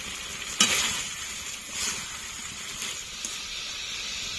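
Chicken curry pieces fry in a pan with a steady hiss and sizzle, and a few sharper bursts where the meat is moved or stirred.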